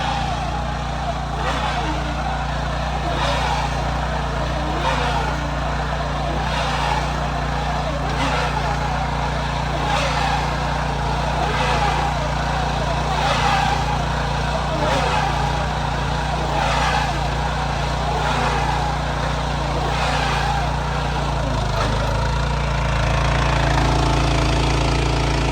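A hay bale wrapping machine pulled by a Kubota tractor runs steadily, its hoop spinning around a dry rye bale with a low engine drone and regular rhythmic clunks, loud and close, with a voice talking over it.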